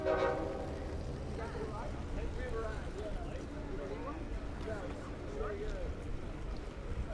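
Long Island Rail Road train 2798, the Cannonball, passing at Westhampton: a steady loud rumble of rolling cars with a brief horn tone at the start, continuous and close throughout.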